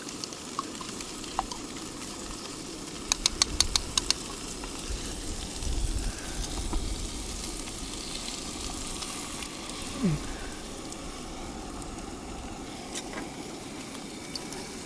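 An egg frying in a single pan over an outdoor camp breakfast in a forest, a steady soft sizzle running throughout with a few brief clinks and scrapes of stirring near the start and outdoor background noise.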